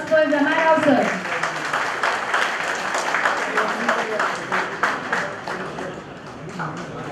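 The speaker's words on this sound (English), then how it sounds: "Please put a round of applause for Ramarao Sir." An audience at an MSME startup-ecosystem conference applauds, a steady patter of clapping that fills the room while a voice speaks over its start.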